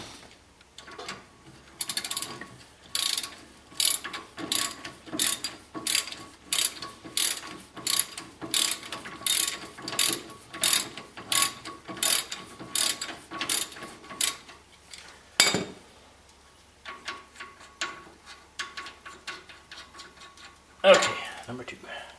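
A ratchet wrench works a bolt during suspension repair on a Ford E-350 van, giving steady rapid clicking bursts in a regular back-and-forth rhythm, close and clear, with a pause and a final short burst near the end.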